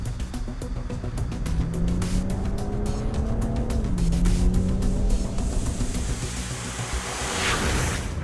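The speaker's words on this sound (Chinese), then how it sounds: "通过赛车训练提升快速反应能力" Race car driving hard on a training circuit, engine note rising and falling through gear changes with brief tire squeal, loud and continuous throughout with no voices.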